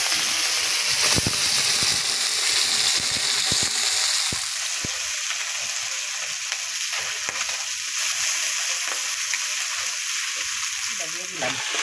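Fish frying in a pan, a loud steady sizzle with a burst of crackling as the pieces go into the hot oil, then continuous spattering throughout.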